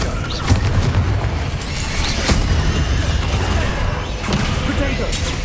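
A Confringo blasting spell exploding in the video game Hogwarts Legacy: loud, rumbling booms and thuds over a dense battle din, with a voice heard among the blasts.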